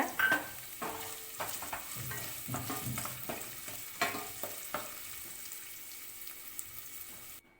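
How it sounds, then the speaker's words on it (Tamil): Finely chopped large onion frying in a pan for brinjal thokku, giving a low, steady sizzle broken by frequent stirring scrapes and taps that fade into near silence at the end. "இது கூடவே ஒரு பெரிய வெங்காயம் சின்ன சின்னதாக கட் பண்ணி வச்சுருக்கேன் அதையும் சேர்த்துக்கிறேன் அதையும் நல்லா பொன்னிறமாக வதக்கிக்கோங்க"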